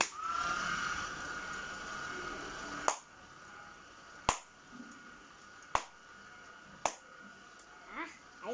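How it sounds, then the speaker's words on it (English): A person claps sharply four times at spaced intervals to switch a clap-controlled smart fan, each clap a crisp isolated crack over a steady background hum. "I don't know why my hands are not clapping properly."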